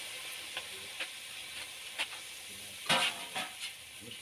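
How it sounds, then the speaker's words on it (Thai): Clams being stir-fried in a pan, a steady close sizzle broken by several short scraping stirs, with the loudest burst of frying near the end. "ก็คือเราคั่วหอยก่อน"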